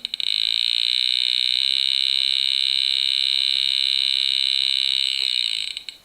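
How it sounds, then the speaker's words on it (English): A GEOVITAL EM field probe sounds a loud, continuous high-pitched electronic alarm tone that holds steady for about five seconds, then cuts off with some faint handling noise. "we get that alarm, the beep, beep, beep coming over the top"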